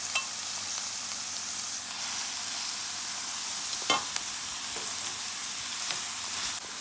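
Fresh kale stirred and sautéed in a pan, a soft steady sizzle with occasional scraping taps from a utensil, close and fairly quiet, no voices.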